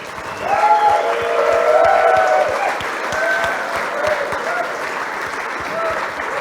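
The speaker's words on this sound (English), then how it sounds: "please give my friend Bazzel Baz a hearty round of applause" An audience gives a hearty round of applause, steady and sustained clapping from a crowd throughout, with a few cheers and voices rising over it.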